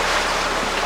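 Waves wash against a sailboat beating about 50 to 60 degrees off the wind, a steady broadband rush of water and wind noise that stays close and constant with no talk.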